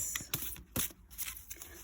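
Oracle deck cards being shuffled, giving a few quick, crisp riffling bursts separated by short pauses, close and fairly quiet.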